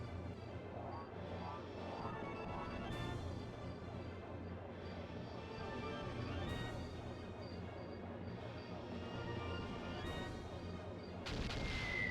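Cannon fire in a Skies of Arcadia ship battle: dense, continuous booming blasts layered with game music and effects, steady and loud throughout with a sharp burst near the end.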